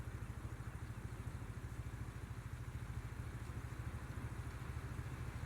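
A tractor engine idles in a farming simulator game on PS4, a steady, low, chugging drone with an even pulse and no talk over it.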